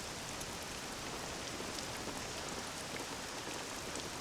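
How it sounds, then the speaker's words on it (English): Rain falling in Dragon Quest VII Reimagined, a dense, even downpour hiss with scattered drop patter, loud and unbroken throughout. "This accursed rain'll chill ye to the bone."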